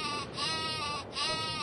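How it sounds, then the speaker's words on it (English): A sheep in the Worms video game bleats in two long, wavering cries, loud and close, separated by a brief pause. "Stupid sheep! Stupid sheep!"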